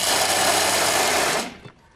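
Bimby food processor with a powerful cutter blade grinding dried fruit, nuts and seeds into a paste: a loud, steady high-speed whirring roar that runs evenly for about a second and a half, then cuts off abruptly and winds down.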